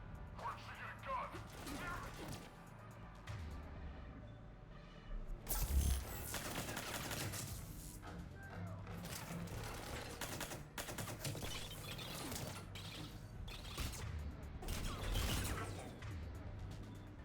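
Gunfire crackles through a Mass Effect 3 firefight, a quiet, busy mix of shots and crashes under game sound, with voices speaking throughout.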